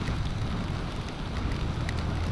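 Steady rain hisses over a loud, low wind roar on a motorcycle ride through the Baler area of Aurora, Philippines; the dense noise holds constant from start to end, with no talking.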